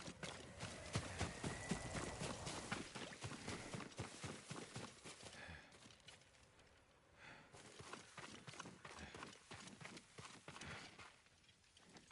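Horse hooves clip-clop steadily across the ground in the samurai game Ghost of Tsushima, a quiet rhythmic stream of footfalls with a brief lull midway before the trotting resumes.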